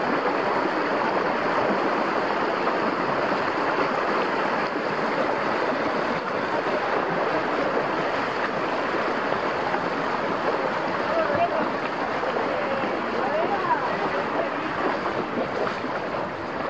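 Water of the Río Sur rushes past in a steady, even broadband flow close by, with a constant wash and no distinct breaks.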